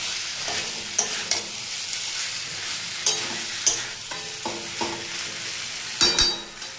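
Pointed gourd and potato being sautéed and stirred in a pan: a steady low sizzle with repeated scraping strokes of a spatula, several louder clatters near the end, no talking.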